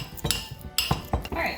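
A spoon stirs a keto jalapeño popper filling in a bowl, making a series of close, irregular scrapes and light clinks against the dish, with no talking.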